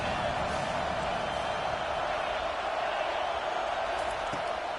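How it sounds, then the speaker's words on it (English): A football stadium crowd at a Wisconsin game gives a constant dense roar that stays broad and steady throughout, with no single voice standing out. "This crowd rising up, sensing that its defense needs some help."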